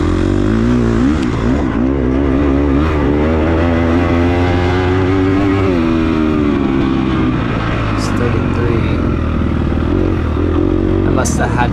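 Dirt bike racing through a muddy sprint enduro course, its engine revving hard and loud close up, pitch climbing and holding high for several seconds before easing off, continuous throughout.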